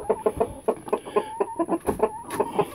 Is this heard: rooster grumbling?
yes